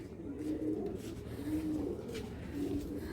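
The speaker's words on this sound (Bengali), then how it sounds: "তো কবুতরটা দেখেন আগে" A pigeon coos softly and close by in a repeated, rolling rhythm, several low calls spaced through the short stretch.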